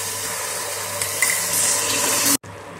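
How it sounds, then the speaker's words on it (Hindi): Sugar and water simmering in a pan into one-string syrup for apple jalebi, a steady bubbling sizzle that runs continuously, growing slightly louder before cutting off abruptly near the end. "इसके लिए हमें चार बड़ी चम्मच चीनी और दो छोटे चम्मच पानी डालकर एक तार की चाशनी तैयार करेंगे।"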